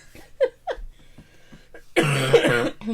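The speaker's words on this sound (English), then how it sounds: "I wasn't coughing before we started recording." A person coughs a few times in short, sharp bursts, followed by a louder, rougher stretch of coughing or throat clearing, close to the microphone in a quiet room.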